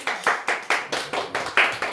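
About nine quick, even claps from a group at a classroom-style lecture ring out in a brisk steady rhythm, fairly close and clear, with no voices over them.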